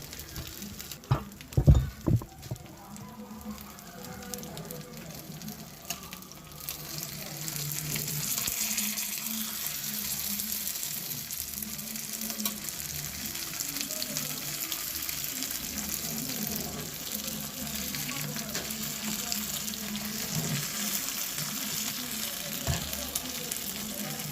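Mackerel frying in a pan gives a continuous sizzle. A few clattering knocks sound near the start, then the crackling settles into a steady, fairly loud fry with no talking.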